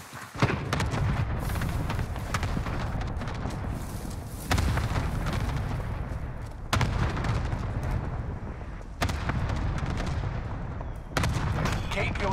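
Cluster strike airstrike in Call of Duty: Warzone, a long rumbling barrage with several heavy booming explosions landing in bursts, loud and sustained over continuous battlefield noise.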